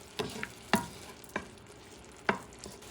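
Sofrito with cilantro cooking in a pan over medium heat, a low sizzle under four sharp scraping stirs of a utensil against the pan, spaced unevenly and close, with no voices.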